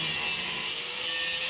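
A bolt head being cut off during steering repair on a John Deere LA105 riding mower, a steady harsh metal-cutting grind that runs continuously and fairly loud throughout.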